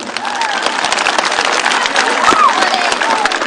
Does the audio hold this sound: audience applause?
yes